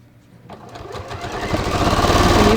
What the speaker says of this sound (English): So I'm just going to stitch.